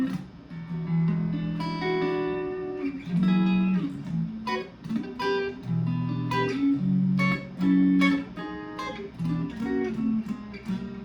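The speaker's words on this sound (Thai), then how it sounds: "ตัวนี้ก็เสียง เสียงสไตล์ สแตทที่แท้จริงนะ" A clean electric guitar, a PHX ST-1 Stratocaster-style model, plays chords and single notes with a bright, glassy tone, sustained and rhythmic, alone without any voices.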